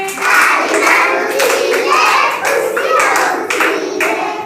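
Children clap their hands along to a counting song in a classroom, a steady run of close, bright claps mixed with young voices singing.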